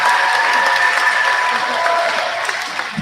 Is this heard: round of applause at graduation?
yes